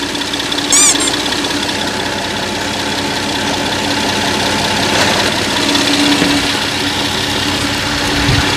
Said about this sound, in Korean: 엔진 소리도 이제 양호한 상태의 엔진을 가지고 있는 차량이고요